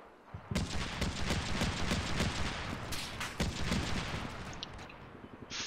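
Gunfire in the combat game Combat Mission Shock Force 2, a sustained crackling fusillade of overlapping shots at moderate distance with occasional heavier booms, fading slightly toward the end.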